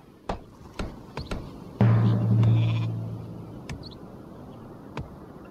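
A sheep bleats once, loud and wavering, in the video game Northgard. Sharp clicks and taps sound before and after it against a faint background.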